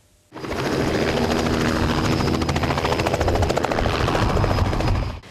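Loud, steady engine roar from a low-flying light aircraft at a small-aviation festival. It starts abruptly, holds a constant rumbling drone with a fluttering propeller beat for about five seconds, then cuts off.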